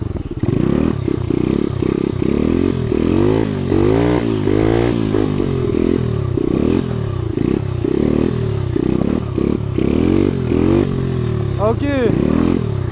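A dirt bike engine revs repeatedly in rising and falling sweeps, loud and close, with clattering mechanical noise throughout while someone talks over it.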